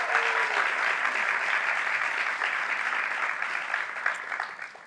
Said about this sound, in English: You can applaud that, please.